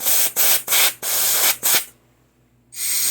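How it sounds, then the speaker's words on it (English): Compressed air blasts down the fuel hole of a Toro lawn mower that won't start: five loud, close hissing bursts in quick succession, a brief pause, then another blast. "Blow down the fuel hole."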